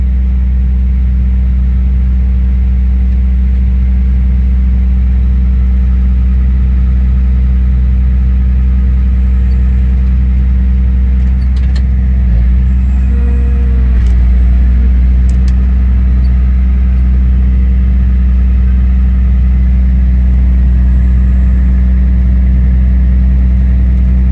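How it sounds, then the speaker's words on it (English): A tractor pushing triticale silage up a bunk pile runs as a loud, steady, close engine drone with a deep hum, holding constant with only slight changes in load. "That tractor really just shoves it on up the hill."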